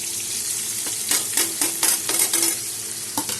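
Tomatoes being sautéed in a pan with chili powder, cumin, turmeric, sugar and salt for a Bengali kofta curry; steady close frying sizzle with a few sharper scraping stir strokes, no talking.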